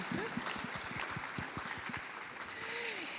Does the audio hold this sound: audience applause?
yes